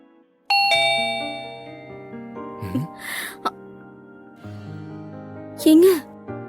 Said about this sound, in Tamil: இன்னைக்குதான் காலிங் பெல் சவுண்டே கேக்குறேன்